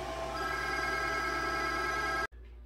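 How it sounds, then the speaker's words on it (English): A telephone rings steadily and fairly loudly, close by in a garage during ABS and traction control diagnosis on a 2016 Chevrolet Colorado, alone without talk, then cuts off abruptly near the end. "as I was saying before the phone rang"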